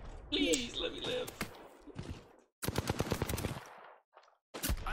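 Bursts of automatic gunfire in the battle-royale video game Apex Legends, loud and close, coming in rapid clusters separated by short gaps, with a voice speaking over parts of it.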